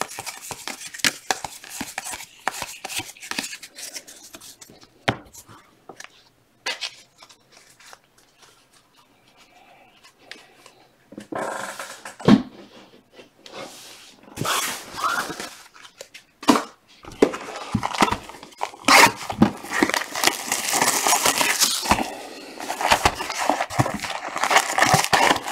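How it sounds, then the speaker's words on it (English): A dog chews and tears at cardboard with rapid crinkly rips and crunches in irregular bursts, close by, growing busier and louder toward the end. "My dog's trying to eat the cardboard."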